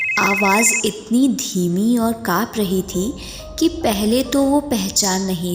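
A telephone rings as a sound effect in a Hindi horror story, a short electronic trill heard at the start before narration takes over; someone speaks throughout in a low, dramatic voice.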